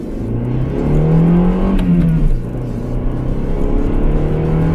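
A 2001 Honda Accord engine revs while driving, a loud steady drone rising in pitch then easing back, with no voices.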